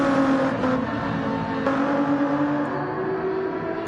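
Race car engine from Gran Turismo 7 at Laguna Seca, a loud steady drone held at constant revs throughout with slight pitch shifts, no talking.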